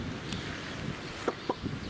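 Domestic roosters cluck in a garden, a few short, close calls spaced across soft outdoor background noise.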